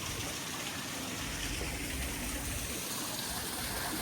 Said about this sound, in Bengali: এখানে একটা আছে, ঝর্ণা, এই পানি খাওয়া যাবে না